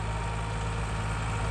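Steady, unbroken idle of a Massey Ferguson MF260 tractor's diesel engine with an 18-plate disc harrow, a low throbbing hum held close and loud with no voices.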